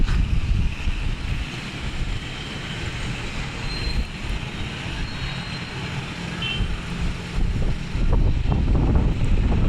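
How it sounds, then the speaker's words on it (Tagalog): Strong wind gusts across the top floor of a building, a loud, continuous roar buffeting the microphone with rumbling surges and no one speaking. "Malakas yung hangin."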